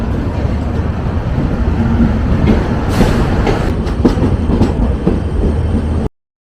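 A Brahmaputra Mail passenger train running on its rails, heard from inside a coach as a loud, steady rumble with rhythmic clickety-clack wheel beats and a few sharper knocks, and no talking.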